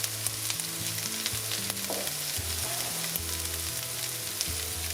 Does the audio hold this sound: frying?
yes